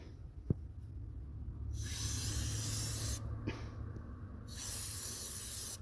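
Enamel spray paint hisses from an aerosol can in two long, steady bursts separated by a short pause, close and fairly loud, with a faint knock just before the first burst.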